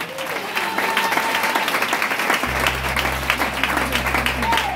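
Church congregation at a Pentecost service bursting into sustained applause and cheering, a loud, dense wash of clapping that continues throughout, with a low hum joining partway.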